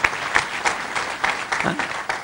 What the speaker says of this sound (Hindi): रमन जी के लिए एक बार जोरदार तालियां हो जाएं सबकी ओर से।